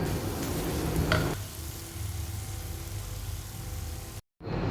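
Spices being stirred into mutton curry with ground fennel, garam masala and pepper in a pot, a steady sizzle and scraping that drops to a softer constant frying hiss, close and alone.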